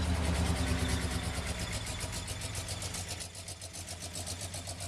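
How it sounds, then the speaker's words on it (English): A 1968 Chevrolet Chevelle SS396 convertible's big-block V8 at close range, heard in a steady, loud, lumpy idle that settles slightly lower partway through, with no voices over it. "Let's start the car and take a look at the motor."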